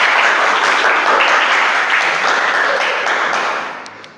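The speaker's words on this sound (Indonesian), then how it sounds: "silakan beri tepuk tangan yang meriah untuk kelompok 3" Classroom applause for a student group after their presentation: a dense, steady wash of many hands clapping at close range, fading out near the end with no talk over it.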